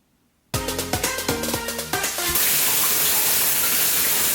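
Water bursts on after a short silence, with several rhythmic knocks and splashes at first, then settles into a loud, steady hiss of a running shower or tap filling the room.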